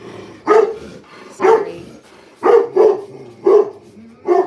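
A dog barks indoors, giving about six sharp, loud barks in pairs and singles with short gaps between them. A person speaks briefly between the barks.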